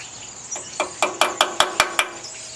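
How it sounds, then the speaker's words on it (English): Aluminum edge peened over with a hammer during an emergency field repair on a Briggs tractor, seven sharp metallic taps in an even, quick rhythm, close and clear over a faint outdoor background. "go around the edge and peen peen the aluminum over"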